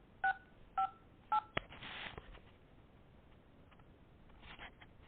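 Phone keypad tones dial into voicemail, three short clear beeps in a row followed by a brief rustle and a fainter burst, quiet overall.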